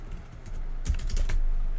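Typing on a computer keyboard, a quick burst of several close keystrokes over a low steady hum.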